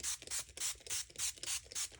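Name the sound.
spraying water from bottle onto stone paper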